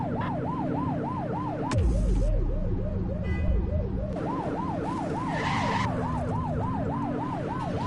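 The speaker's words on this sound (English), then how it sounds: "Turn that siren off." A police car siren in The Precinct video game wails in a rapid repeating yelp, shifting to a slower sweeping tone midway with a rumble of engine and road noise underneath, loud and steady throughout.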